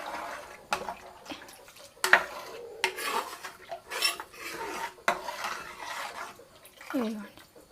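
Water is stirred in a cooking pot, with repeated metallic scrapes, clinks and sloshing bursts in an uneven rhythm, close and moderately loud.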